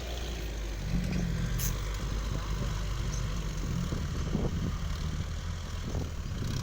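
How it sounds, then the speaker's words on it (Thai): Heavy farm tractor engines running at a rural event, a loud continuous low rumble with throbbing idle and occasional revving, near and dominating the scene. "นี่ครับมาดูรถไถแรงๆครับ"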